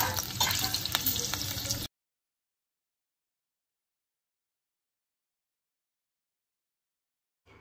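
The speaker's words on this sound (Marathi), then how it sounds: "मिरच्या ह्या तुपामध्ये चांगल्या परतल्यानंतर" Finely chopped green chillies sauté in ghee with a loud, close crackling sizzle for about two seconds, then the sound cuts to silence, with a faint return at the very end.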